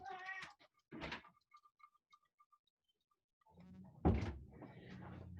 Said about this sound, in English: I told my cat that she had to be quiet during this presentation, and then she was not